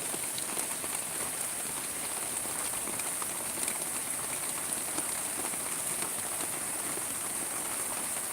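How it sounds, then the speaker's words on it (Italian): Rain falls steadily in Salerno, Campania, on an October evening, a dense, even hiss of drops hitting surfaces that continues without pause and without any voices. "Quindi sono già 10 minuti che è iniziato a piovere."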